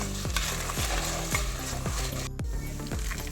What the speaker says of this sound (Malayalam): കാശ്മീരി മുളകും സാധാ വറ്റൽ മുളകും കൂടി ചേർത്തിട്ട് നമുക്കൊന്ന് വറുത്ത് മൂപ്പിച്ചെടുക്കാം